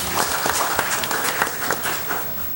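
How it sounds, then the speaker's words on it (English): Applause at a Boynton Beach city commission meeting, a short burst of steady clapping from a modest room crowd, close and fairly loud throughout. "I just want to give them a round of applause for that"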